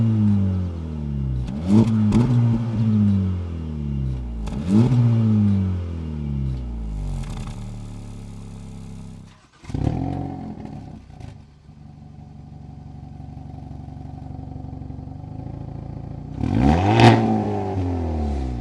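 A sports car engine with a center triple exhaust revs repeatedly, several sharp rising blips with falling pitch after each, then idles and rumbles before one final loud rev near the end.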